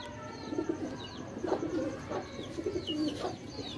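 Soft, repeated pigeon coos, several low throaty calls in a steady rhythm, with faint chirps in the background.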